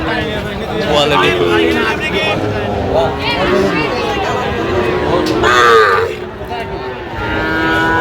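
Sahiwal cattle moo repeatedly, loud and close, amid a busy cattle market crowd's chatter and bargaining voices throughout, in Chittagong.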